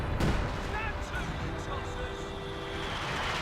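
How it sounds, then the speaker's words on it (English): Artillery barrage in the strategy game Company of Heroes 2, a sharp close boom at the start followed by rumbling battle noise and distant explosions, with a voice talking over it. "Nick is calling down artillery from his base"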